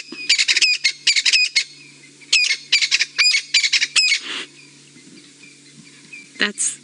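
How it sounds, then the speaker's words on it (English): Crested francolins call on an afternoon safari drive, loud clustered bursts of harsh rattling squawks repeating in rapid series, then a pause before a final brief call, against a quiet engine hum. "That's those crested francolins calling."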